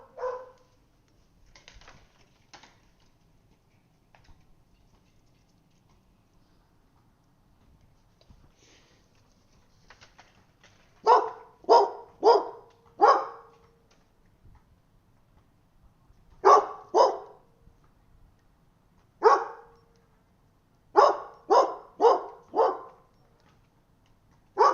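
Neighbours' dogs barking indoors in clustered bursts of two to four sharp barks separated by long quiet gaps, fairly close and loud against an otherwise silent room, with faint sniffing between bursts.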